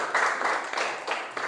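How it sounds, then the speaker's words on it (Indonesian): Audience applause for a classmate named Eka in a classroom lesson: a short, steady burst of many hands clapping together, fairly loud and continuous with slight swells, no voices over it. "Berikan tepuk tangan ke Eka"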